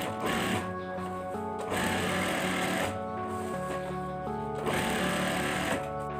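A sewing machine stitches cotton curtain fabric in loud close bursts, its rapid mechanical whirr starting and stopping in roughly one-second runs separated by short pauses.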